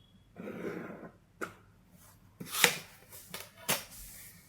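Scissors cutting V-neck blouse fabric on a table, a few soft, sparse snips and rustles spread across several seconds, close and quiet with no talking.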